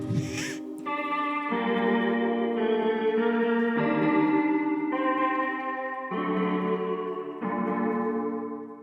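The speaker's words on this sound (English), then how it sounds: "we've also got some more effects down here, delay, chorus, and reverb." Sustained electric guitar chords, sampled through a telephone, ring out one after another, smeared by echoing delay, shimmering chorus and a spacious reverb tail.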